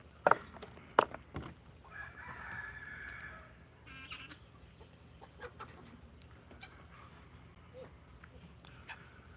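Chickens cluck near a coop door, with a couple of sharp, loud clucks at the start, then quieter scattered calls over faint background noise.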